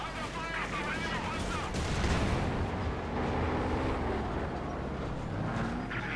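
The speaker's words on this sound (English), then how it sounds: "Another barrage here." Artillery barrage in the Company of Heroes 2 strategy game, a dense, continuous rumble of booming impacts and crackling gunfire with no clear breaks, loud and sustained throughout.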